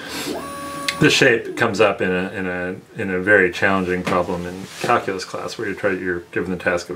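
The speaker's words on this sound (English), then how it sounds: "you can probably hear the 3D printer in the background." A 3D printer prints a shape in the background, its thin, steady motor whine faint beneath someone talking continuously close to the mic.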